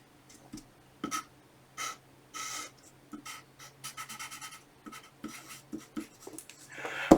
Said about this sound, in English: So let me draw the molecule out.